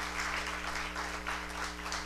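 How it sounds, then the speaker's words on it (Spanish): A church congregation applauds during a service: a short stretch of steady, fairly loud crowd clapping over a constant low hum. "Otro fuerte aplauso al Señor,"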